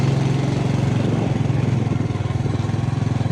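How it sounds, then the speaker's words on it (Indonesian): Motorbike engine putting steadily along a short ride to a garden plot, a loud, continuous low chugging throb close by with a slightly pulsing rhythm throughout, no one talking. "Naik motor dulu ke kebun."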